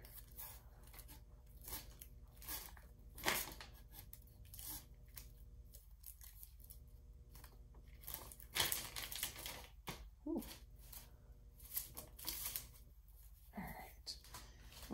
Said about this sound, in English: let me take one of my gloves off so I can get all this tape off of here.